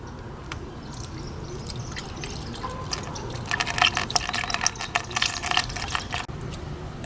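Coolant poured through a thin funnel into a 1998-2002 Honda Accord V6 radiator trickles and splashes steadily, growing busier and louder midway before easing off, with faint background hiss and no talking.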